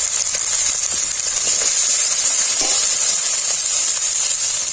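Ground turmeric, chili and cumin frying in hot oil for palak paneer, a steady loud hissing sizzle throughout with faint stirring scrapes.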